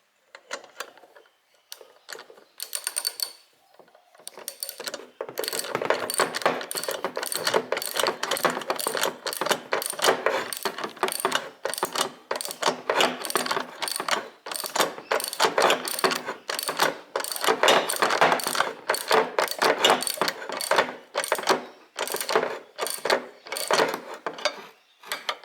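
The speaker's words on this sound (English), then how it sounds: "and then your nut. Half-inch nut. We'll do him up." A ratchet tightens a half-inch nut on a 1966 Mustang vent window spring with quick, repeated clicking strokes that run nearly continuously after a few hesitant starts, close and clear.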